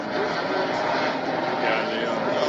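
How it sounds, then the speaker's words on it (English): Helicopters flying overhead in Baltimore during a street-level live report make a steady, loud rotor-and-engine roar that fills the whole stretch without a break. "Helicopters flying overhead."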